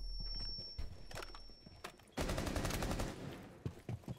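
Gunfire rattles in a Rainbow Six Siege match, with scattered single shots and then a dense burst of rapid automatic fire, loud and close. Faint footsteps and in-game clatter sit around the shots.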